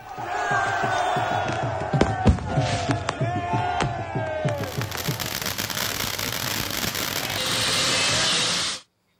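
Fireworks and firecrackers crackle and pop in rapid bursts through a noisy crowd at election victory celebrations in Pakistan, with cheering and shouting all around, and a steady roar of noise in the final seconds.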